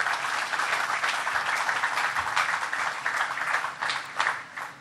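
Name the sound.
audience applause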